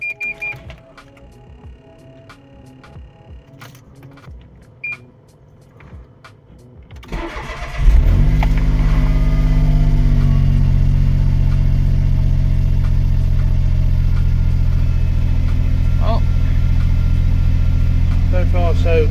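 Faint ticking and clicks give way to a Smart Fortwo engine cranking and catching, then settling into a loud, steady idle that runs close for the rest of the clip.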